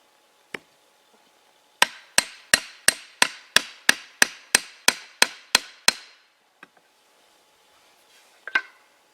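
A leather hammer strikes the head of a Welland Vale True Temper Black Prince axe twelve times in a steady, even rhythm, sharp and close, with a few scattered knocks before and after.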